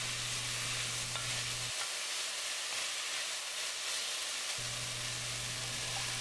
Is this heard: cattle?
no